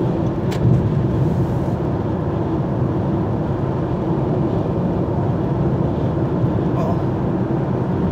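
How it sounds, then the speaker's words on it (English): Steady interior road noise from a car being driven, a constant broadband rumble and hum with no breaks, heard from inside the cabin. "I gotta focus on driving."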